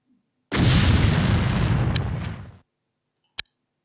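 A grenade thrown and exploding in the game X-Com Apocalypse, one heavy booming blast that rumbles for about two seconds and fades, followed by a sharp click-pop, with no speech.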